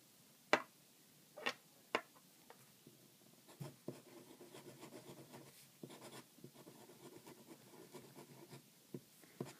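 A Cross Aventura fountain pen nib scratches across paper up close, a few sharp strokes followed by steady, rasping writing with small ticks and pauses.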